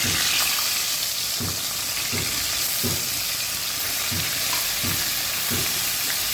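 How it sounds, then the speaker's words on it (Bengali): Pieces of fish rubbed with turmeric and salt fry in hot oil in a frying pan, making a steady, loud, close sizzle throughout, with soft periodic knocks from the pan. "গরম তেলের মধ্যে মাছগুলো দিয়ে দিচ্ছি"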